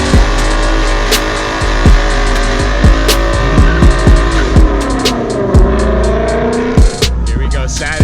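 Cars cruising past at the crowded H2oi car show in Ocean City, Maryland, with loud engines revving and accelerating close by, exhausts roaring and tires squealing in overlapping bursts.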